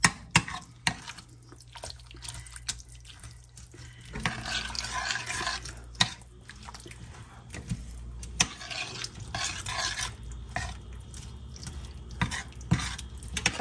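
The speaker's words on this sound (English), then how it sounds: "Give me a spoon to stir it and help melt the butter" A spoon scrapes and clinks around a pot as butter melts for cream style corn, with sharp intermittent knocks against the metal over a quiet, low simmering hiss.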